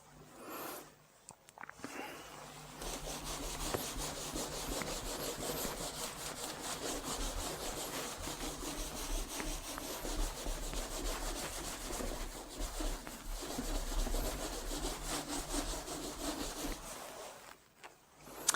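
Writing on a classroom board is rubbed out with steady, continuous scrubbing strokes that run loud and close for most of the stretch and then stop.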